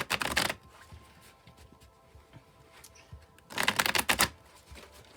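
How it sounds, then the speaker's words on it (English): A tarot deck is shuffled in two quick riffling bursts, one at the start and one near the end, with softer card handling and light taps in between, close and fairly quiet. "I'll shuffle till the deck feels ready, and then we'll cut and deal right off the top."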